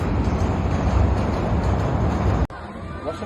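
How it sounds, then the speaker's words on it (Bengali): A train rumbles past close by with heavy, continuous low roaring, then cuts off abruptly to quieter background noise. "তখনই ট্রেন যাচ্ছে নাইস"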